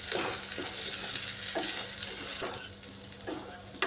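Potatoes and lentils stir-fried with spices in a pan give off a steady broadband sizzle, broken by several soft scraping strokes of a spoon against the pan. No voices are heard.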